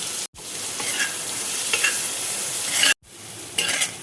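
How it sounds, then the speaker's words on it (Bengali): Chopped ginger, garlic and green chili fry in melted butter for a paneer kathi roll, giving a bright, steady sizzle close by with stirring noises. There are two brief moments of silence. "রসুন আদা দেখো হালকা করে ভেজে নিয়েছি।"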